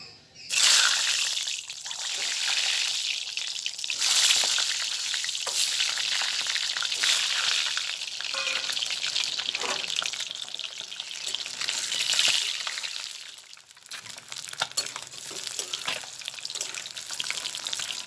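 Eggs fry in hot oil in a pan for an egg potato curry, a loud steady crackling sizzle with bright spitting pops that carries on close and continuous.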